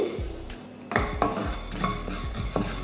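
Coriander seeds dry-roasting in a pan for rasam powder, stirred: a steady rattling, scraping stir with a few sharp clinks of the spoon against the metal, close and fairly loud, with no speech.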